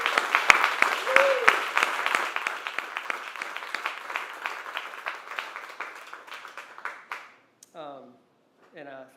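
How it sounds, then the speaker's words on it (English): An audience claps at a talk event, a burst of applause that is lively at first, then thins into scattered claps and dies away as a voice begins speaking near the end. "And so I think we owe them, nothing else, a really loud round of applause."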